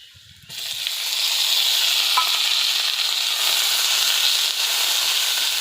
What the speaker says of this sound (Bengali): এই দেখুন, আমি লাল লাল করে ভেজে নিচ্ছি।